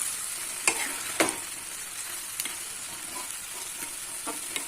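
Potatoes cooking in a spice paste of chili, cumin and coriander powders mixed with water, a quiet steady sizzle broken by a few sharp clicks of a spoon against the pan, no voices.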